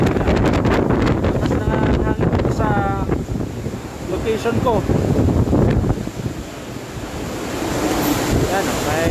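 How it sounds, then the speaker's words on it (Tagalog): Super Typhoon Goni's strong winds gust loudly through central Naga City, a sustained roaring rush with surging gusts, while someone speaks briefly over it. "Yan, medyo malakas ang hangin dito."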